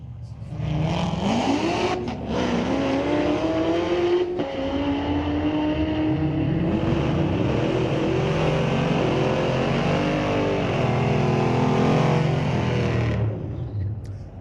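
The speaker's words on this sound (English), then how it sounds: "Wow for the Corvette doing 10:17 at 129." A Chevrolet Corvette ZR1 drag racing at Mission Raceway Park, its engine revving hard and climbing through gears in a loud sustained roar over about thirteen seconds before fading.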